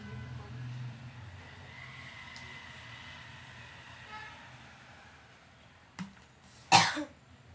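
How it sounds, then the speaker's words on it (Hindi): A quiet hum runs through most of it, then a single short cough and, a moment later, a louder, harsher cough. "खांसी कराती है।"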